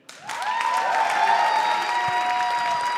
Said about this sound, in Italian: fatelo questo ultimo applauso per il Teatro Orione